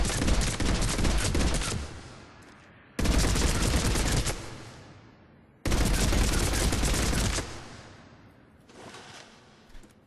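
Revenant assault rifle from Mass Effect 3 firing short-range bursts: three loud, dense rattling volleys of rapid gunfire, each a couple of seconds long and trailing off into a short decay before the next, with a fourth quieter burst at the end.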